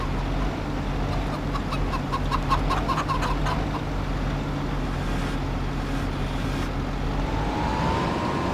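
Farmyard chickens in the game Farming Simulator 25 cluck in a quick cluster of short calls early on, then fade beneath a constant low mechanical drone.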